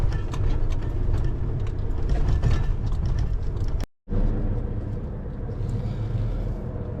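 A DAF truck engine idles at a port in steady, loud low rumble, cutting out briefly for a moment midway before the same droning idle resumes.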